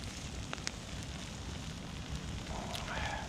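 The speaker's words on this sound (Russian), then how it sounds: "У нас дождь опять идет." Steady rain patters on a winter riverbank beside a crackling campfire, a dense, even wash of hiss with a few faint sharper pops and ticks, no voices.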